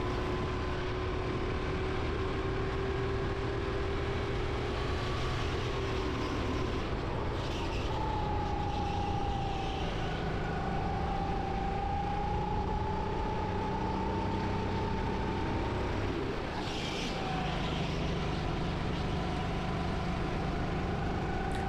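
Rental go-karts run around a track, small engines whining in overlapping tones that rise and fall as they lap, a continuous buzzing drone lasting about twenty seconds at moderate distance.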